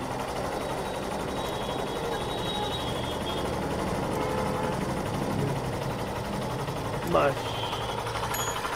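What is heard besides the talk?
Hero Super Splendor BS6 motorcycle engine idling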